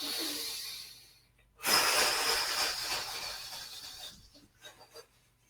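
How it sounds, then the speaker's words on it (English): A slow, deep inhalation during a relaxation breathing exercise, a long airy rush of breath that swells up close after a quiet pause, then fades into a few softer exhaled puffs. "So let's just do that a couple more times, breathing in."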